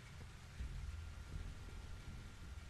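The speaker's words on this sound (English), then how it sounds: "Oh, the rain. Won't let up today." Soft steady rain with low rumbling thunder underneath, faint and continuous, in The Walking Dead game on PS4.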